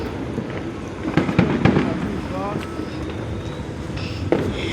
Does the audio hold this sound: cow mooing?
no